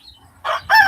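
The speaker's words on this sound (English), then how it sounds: "that rooster sounds way louder than you do when you're talking" A rooster crows outdoors, two loud bursts in the second half following near silence, rising sharply over faint background hum.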